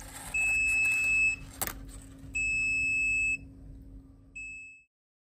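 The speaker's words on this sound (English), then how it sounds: "There is a beep to warn you when it's done." A SUNLU filament connector signals it is done with three electronic beeps, each about a second long with short gaps, loud and close in an otherwise quiet room.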